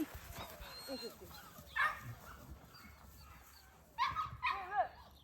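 Chocolate Labrador puppy, four months old and male, lets out high whimpers and yips in short bursts at moderate distance, with a person talking quietly between them indoors.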